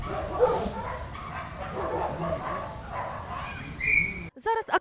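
Several free-roaming disabled shelter dogs barking and yipping at a distance under a reporter's voice, ending in a short burst of nearer, louder barks.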